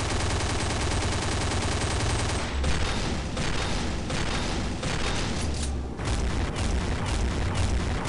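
A P90 submachine gun fires in Counter-Strike, long, fast automatic bursts of loud, crisp shots with brief breaks between strings, close and dominant with no talking.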